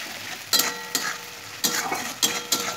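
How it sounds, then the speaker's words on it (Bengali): Spice paste for chicken frying in a pan, a soft steady sizzle broken by several sharp scraping strokes of a spoon stirring it, close by with no talk. "এবার মশলাটা আমি কষিয়ে নেব।"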